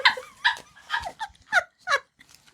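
Dogs bark in a quick series of about six sharp, close yips and barks, evenly spaced over a couple of seconds, with no talk.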